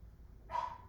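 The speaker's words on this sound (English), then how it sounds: "So if you hear a barking dog." Leia the dog gives a single faint bark from across a quiet room, brief and alone against low background hiss.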